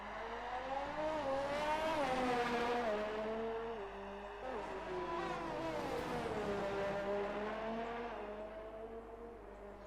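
Race cars lapping a circuit in a sim racing game in China, engines revving and climbing through gears, pitch rising and falling as the cars pass, loud and continuous with no talk.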